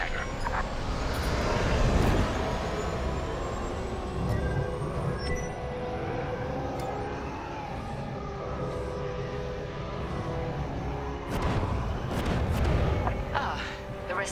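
Starfighter engines in the video game Star Wars: Squadrons throttle up with a rising, roaring whine and rumble that swells and ebbs, then surges again near the end under a layer of game audio.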